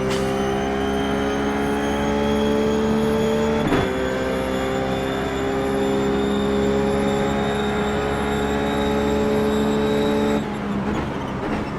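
Ruf GT3 race car engine at Monza in the iRacing sim, droning at high revs with steady sustained tones, briefly shifting pitch once and again near the end, loud and close with no voices.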